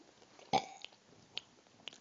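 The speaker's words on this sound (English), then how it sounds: "I can burp louder than you." A single loud, abrupt burp bursts out close to the microphone in a quiet room, followed by a few faint clicks and small mouth sounds.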